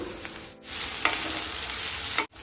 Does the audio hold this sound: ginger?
yes